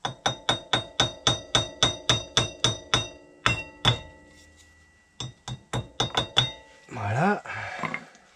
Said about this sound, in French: On va prendre un petit marteau céramique.